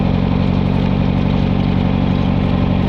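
Carbureted vehicle engine pulling steadily uphill on Fall River Road, a loud, continuous, close drone with no change in pitch and no voices.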